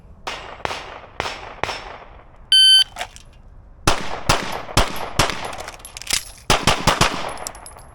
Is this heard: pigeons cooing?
no